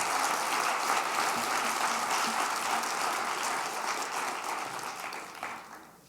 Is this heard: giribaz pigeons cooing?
no